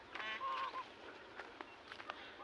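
Cranes call outdoors on a winter day with a few faint, honking cries early on, followed by scattered quieter calls in the distance.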